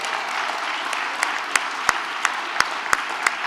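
A crowd at a Sinn Féin live-streamed event in Dublin cheers and applauds, a dense sustained roar of clapping with sharp individual claps popping out near the microphone, steady throughout.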